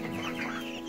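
Brief, soft clucking from two-week-old broiler chicks close by, a short burst of fowl chatter with no talking.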